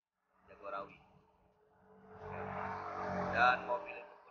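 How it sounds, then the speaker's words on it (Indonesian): A car on a road near the Jagorawi toll gate in Kampung Rambutan swells up and rushes past, building to a broad whoosh before easing off, with a voice talking over the start. "Dan mobil itu pun berlalu."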